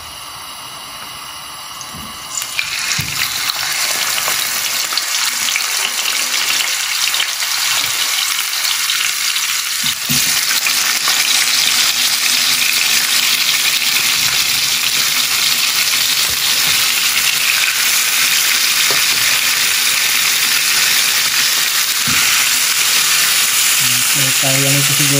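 Inasal-style chicken pieces go into hot oil and fry, giving a loud, steady, close hiss of sizzling that swells once the pieces drop in, with a few faint clinks from handling.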